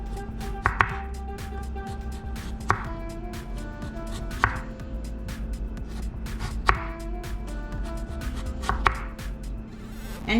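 A knife chops skin-on Irish potatoes into slices about 1 inch thick, giving sharp steady thunks on a cutting board at an even, unhurried pace, close and alone without talk.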